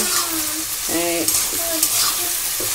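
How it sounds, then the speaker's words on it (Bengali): Chopped garlic, whole garam masala, bay leaves and cumin seeds sizzle in hot oil, a bright continuous crackle with a few stirring scrapes. "তেলের পরে ভেজে নেবো"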